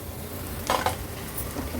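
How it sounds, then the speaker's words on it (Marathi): Roasted coconut, garlic and ginger paste is sautéed with onions in a pan for an Agri Koli seafood meal. A soft, low sizzle runs throughout, broken by a couple of brief stirring scrapes midway. "वाटण देखील आपण कांद्यामध्ये छान परतून घेऊया"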